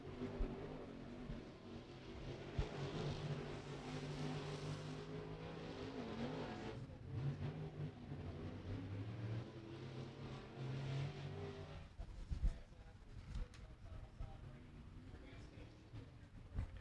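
A race car runs a qualifying lap at Beckley Motor Speedway in West Virginia, its engine a faint, steady distant drone that fades out, with an announcer talking over it.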